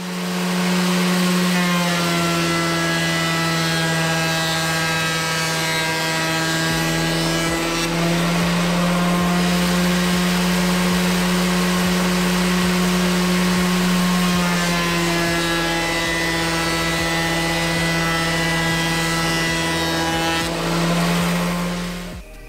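A Triton TPT125 benchtop thicknesser runs with its cutter head spinning, giving a loud, steady motor whine with a strong low hum that holds unbroken throughout, alone with no voices.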